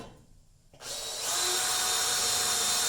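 A brief quiet pause, then a power drill whirs up and runs at a steady, loud high-pitched whine, drilling sheet metal during rust repair on a 1973 Ford Ranchero GT.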